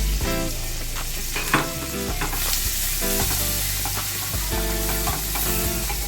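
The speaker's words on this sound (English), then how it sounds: "Now I will add 2 medium-sized onion roughly chopped into the butter and oil. Let this fry." Two medium roughly chopped onions sizzle steadily in butter and oil in a pan, with intermittent stirring scrapes and clinks over the constant loud frying hiss.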